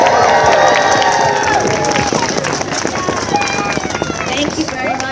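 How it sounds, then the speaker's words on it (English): A crowd at an outdoor town menorah lighting claps and cheers for the singer Linda, a dense continuous wash of applause with shouts and voices mixed in, steady and loud throughout. "let's give Linda a round of applause"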